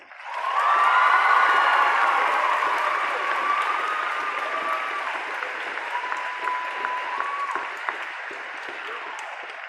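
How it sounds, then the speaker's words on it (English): A high school graduation crowd gives teachers sustained, dense applause that swells quickly, then slowly thins over several seconds, with a few cheers mixed in. "So let's give our teachers one last round of applause."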